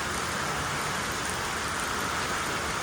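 Heavy rain pours steadily in an outdoor setting, a dense, continuous hiss with no pauses, loud and close throughout.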